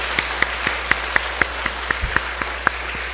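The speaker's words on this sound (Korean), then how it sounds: "박수 한번 격려 박수 열심히 하라고 격려 박수 해주시고요" A church congregation applauds a missionary during a Sunday service, heard as steady, evenly spaced claps over a constant low hum and hiss of background noise.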